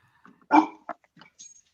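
A dog lets out one sharp, close bark followed by a few softer short yips and grumbles in an otherwise quiet room.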